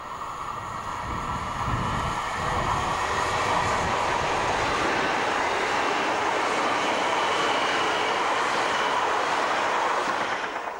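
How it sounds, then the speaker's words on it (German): A short three-car Nordwestbahn class 440 Coradia Continental electric multiple unit rushes past at steady loudness, a broad sustained roar and rail rumble with faint clicking that holds for the whole stretch and barely fades. "Die elektrischen Triebzüge der Bauart Coradia Continental gibt es in verschiedenen Varianten."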